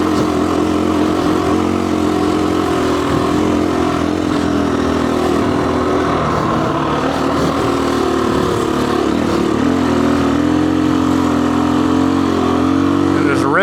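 A Husqvarna FE 350S dirt bike drones steadily on packed sandy trails in Ocala National Forest, its engine note rising and falling slightly, close and continuous, with a voice heard over it.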